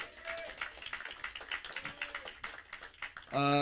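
Applause from a small audience at a comedy night fundraiser, brisk scattered claps at moderate distance, ending in a louder tonal burst of voices or music.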